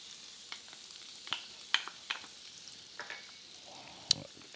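Onions and peppers frying in hot oil and butter, a soft continuous sizzle punctuated by irregular clicks and scrapes of stirring, with a sharp clatter near the end.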